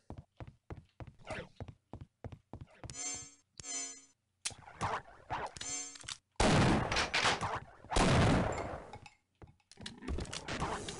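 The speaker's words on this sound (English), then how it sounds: "That's a Voltagore sound." Voltigore, a hulking alien creature in Half-Life: Opposing Force, roars and crackles through a burst of loud, dense noise amid sharp game thuds and gunfire-like clicks.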